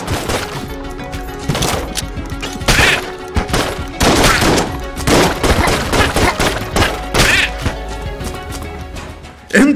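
Rapid gunfire from the randomly generated dungeon crawler Enter the Gungeon comes in loud, dense bursts of overlapping shots, with brief gaps between volleys.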